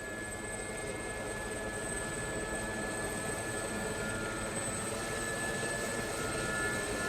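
The turbine of a Gazelle helicopter in the DCS flight simulator whines and roars steadily with constant rotor wash as it tries to lift off, a continuous even engine drone with high tonal hums and no breaks.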